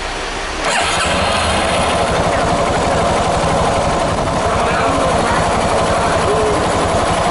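A Yamaha Fazer 250 motorcycle that stalls during the day starts up with a sudden burst, then settles into a loud, close, steady idle that chugs on evenly.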